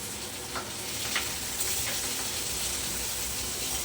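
Onions and green chillies sauté in a pan for a tomato kurma, giving a steady, moderately quiet frying sizzle with a few soft stirring scrapes and no voices.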